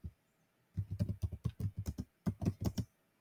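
Bursts of computer keyboard keystrokes as code for a Selenium utility method is typed, close and crisp in quick uneven clusters, with a short pause mid-way and no talking.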